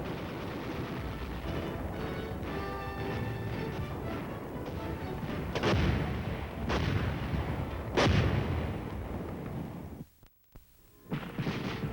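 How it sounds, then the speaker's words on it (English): A team of soldiers fires an artillery piece, sending out several heavy, booming blasts that stand out over a constant low rumble, with a short gap of near silence toward the end. "It takes a team of soldiers to fire an artillery piece."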